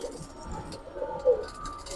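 Domestic pigeons in a loft coo in soft, repeated low murmurs, steady and close, with one slightly louder coo near the end and no talking.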